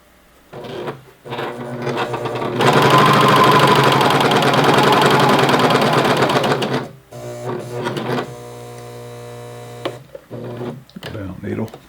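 Sewing machine stitching an elastic waistband in short bursts: a long loud steady whir in the middle, then shorter runs of stitching, with a person talking quietly between and over the machine.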